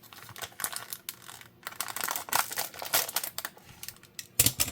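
A package holding a Stormtrooper item being cut open and unwrapped up close, with scratchy cutting strokes, plastic crinkling and tearing in irregular bursts, ending in a louder rustle.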